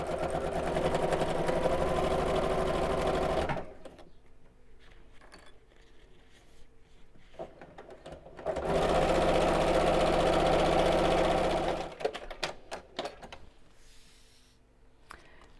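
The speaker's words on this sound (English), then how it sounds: "I've still got the long stitch on my sewing machine, and let's just stitch along both sides." A sewing machine set to a long stitch runs in two loud, steady bursts, hemming both sides of a 2.5 cm wide fabric tote strap, with quiet handling clicks and rustles in the pause between and after.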